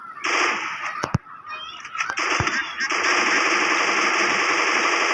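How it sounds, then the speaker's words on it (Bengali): Rapid bursts of MP40 submachine gun fire in a video game, loud and close, with sharp shots breaking through a dense, continuous layer of game noise across the whole stretch. "MP40 দিয়ে মারতে হবে।"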